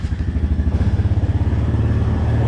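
Four-wheeler engine running close by, a loud rhythmic chugging putter that steadies into an even idle drone.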